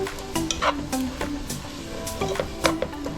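Cabbage being stirred in a cooking pot for steamed cabbage, with soft repeated scrapes and clicks of a utensil over a low sizzle, close and fairly quiet, with no voices.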